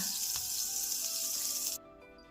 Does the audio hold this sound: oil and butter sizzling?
yes